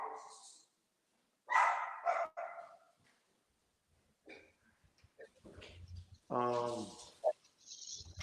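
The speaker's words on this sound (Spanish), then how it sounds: "hay un perrito que está ladrando allá arriba y nadie lo está controlando" A dog barks in short bursts, some muffled and some sharper, scattered across the stretch with quiet gaps between them.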